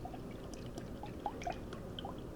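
Water drains from an old coconut in faint, quiet drips and a soft trickle, with small splashes at irregular intervals.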